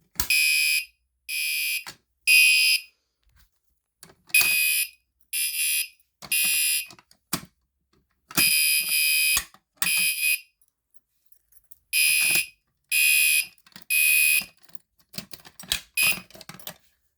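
Gentex Commander 3 fire alarm horn activated by a pull station: loud, close, rhythmic electronic honks in repeating bursts of about a half second, some grouped in threes, with brief silences between and faint clicks near the end.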